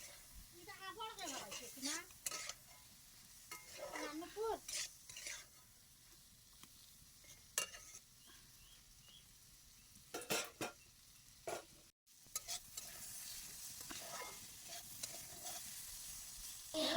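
Boiled jackfruit seeds frying in a pan, stirred with scraping utensil strokes in intermittent bursts over a soft, steady sizzle; a few sharp clinks punctuate the quiet cooking, with no talking.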